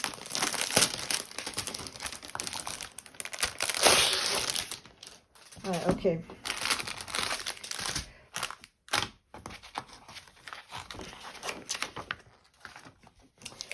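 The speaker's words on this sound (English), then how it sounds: "Please excuse this noise. I know a lot of people don't like the crinkle." Thin plastic packaging around a diamond painting canvas crinkles and rustles loudly in repeated bursts up close, with a man's brief speech in between.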